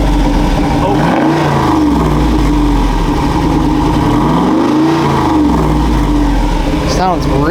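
A Jeep Wrangler 392 V8 with its stock exhaust valves open rumbles loud and close, rising and falling through two big revs and a quick third blip at the end.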